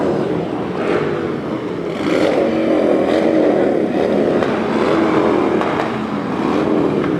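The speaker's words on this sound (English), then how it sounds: "This is the Christian Motorcycle Association Inspiration Riders." Several motorcycles of the Christian Motorcycle Association Inspiration Riders rumble past in a Veterans Day parade in Knoxville, engines droning and swelling steadily and fairly close, with no talk.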